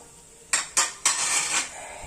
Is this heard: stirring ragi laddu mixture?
yes